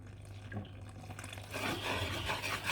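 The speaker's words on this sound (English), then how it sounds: "I'm just going to give some water" Water poured from a tap into a fish filling mixture seasoned with hot pepper, a steady soft splashing stream rising midway and continuing to the end, heard close with no talking.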